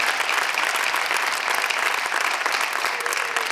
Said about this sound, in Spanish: Un aplauso para Disney Plus.